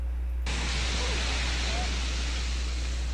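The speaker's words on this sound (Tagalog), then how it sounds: "Patikim na ito ng storm surge o daluyong habang papalapit ang super typhoon Pepito." Storm surge waves pound the shore as super typhoon Pepito approaches, a loud, constant roaring rush of surf and wind that bursts in abruptly and stays dense and unbroken.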